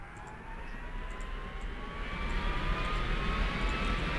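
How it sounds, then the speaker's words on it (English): Airliner engines in the Airport Madness 3D video game at a Rocky Mountain airport, a jet whine and rumble that swells steadily louder with a rising tone, no talk. "We're trying to move as many planes as we can in 15 minutes."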